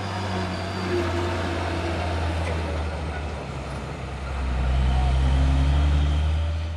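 A heavy box truck rumbles past with a deep, steady engine drone that swells louder near the end. No one is talking.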